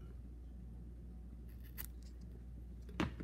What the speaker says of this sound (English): And you got to get the thing cut to a point.